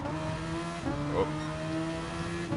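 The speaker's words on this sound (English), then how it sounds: "Sounds like my rev limiter, but it's not. It's my traction control." Race car on the Nürburgring Nordschleife in Gran Turismo Sport with traction control set to 3, its engine holding a steady buzzing drone that stutters briefly as the system cuts power, mixed with faint tire noise.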